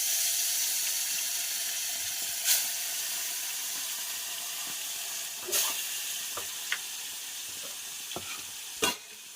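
Fish pieces fry in hot oil for a village-style fish fry, a steady bright sizzle running throughout with a few sharp pops and spatters standing out, no talking.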